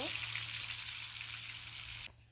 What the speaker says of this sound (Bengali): এখানে গরম তেল বসাই দিছি এখানে গরম হয়ে গেছে তেল আর এখানে কিন্তু হলুদ দিয়ে লবণ দিয়ে মাখা সবগুলো মাছ দিয়ে দিব দিয়ে ভালো করে ভেজে নিব